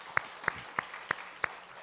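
A church congregation at a Sunday worship service applauding, heard as a few sharp, evenly spaced claps over a quiet room, brief and moderately faint.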